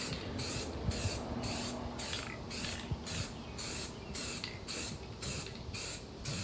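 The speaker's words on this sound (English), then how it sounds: "When you start spray painting, you can always get a cut-up box or something" Spray paint hisses in short, rhythmic bursts onto truck door panels from a 1985 GMC Sierra, about a dozen quick sprays spaced roughly half a second apart, close but fairly soft, without speech.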